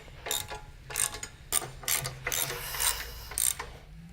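Clamp screw being run down by hand to hold a part on a waterjet cutting table, giving a series of close ratcheting clicks in uneven bursts with short gaps, and no talking.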